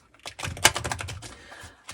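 Tarot cards being shuffled by hand in a quiet room: a short burst of quick, crisp riffling clicks lasting under two seconds, close and moderately loud, with no voices.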